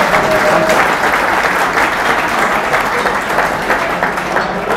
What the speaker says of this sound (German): vielleicht auch mit einem Ticken lauteren Applaus